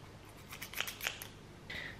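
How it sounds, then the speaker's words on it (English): Scissors snip through crochet yarn up close, two quiet quick cuts followed by a soft metallic slide of the blades, faint and brief with no talk. "you can just cut the yarn"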